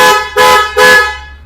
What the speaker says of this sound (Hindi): हमने हॉर्न ऐड किया